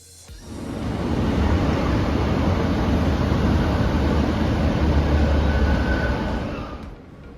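A train bound for Newcastle, heading out from Darlington, runs along steadily with a continuous loud rumble and rattle of wheels on track. The sound rises in the first second, holds, then fades near the end, with no voices.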